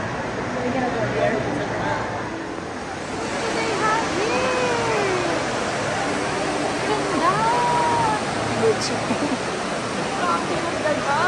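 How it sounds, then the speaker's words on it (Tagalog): Water from the Fountain of the Gods in Las Vegas rushes in a steady, broadband wash, with crowd chatter and nearby voices mixed in throughout. "Yan pala yung Fountain of the Gods."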